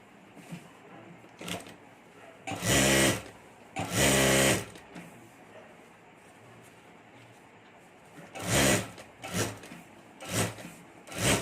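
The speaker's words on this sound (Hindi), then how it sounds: "यहाँ मैं ऊपर चारों तरफ सिलाई कर देता हूँ" A sewing machine stitches fabric for a clutch purse in several short, loud bursts of rapid needle chatter, separated by pauses of quiet handling.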